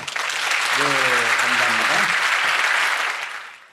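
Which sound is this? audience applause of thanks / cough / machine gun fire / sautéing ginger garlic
audience applause of thanks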